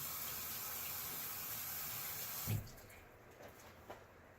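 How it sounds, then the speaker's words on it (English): Tap water runs steadily into a sink while a tasting spoon is washed during pumpkin mushroom soup cooking, then shuts off, followed by a couple of faint clinks and knocks. "I'm going to wash my tasting spoon for the hygiene."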